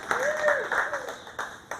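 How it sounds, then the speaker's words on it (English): Crowd applause at a county fair pet show, a moderate patter of hands clapping with a few sharper claps standing out while a voice carries over it. "Let's give Bristol a round of applause"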